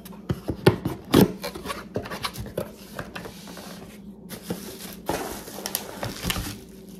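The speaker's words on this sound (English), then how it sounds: "let's open up this box and let's see what we get inside" A cardboard box holding a Saker cordless hedge trimmer and grass shears is opened nearby, with crinkling, rubbing and scraping of packaging in irregular bursts and a few sharp tearing or popping sounds.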